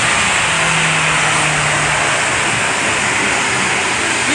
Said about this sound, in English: If you can hear me, that's the plane engine going off.